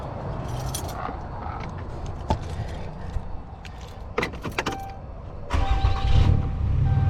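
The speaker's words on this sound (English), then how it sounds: "Let's go ahead and turn the truck on" A pickup truck engine cranks and starts during a route check before hauling an oversize load, with clicks and switch sounds, followed by a steady close idle.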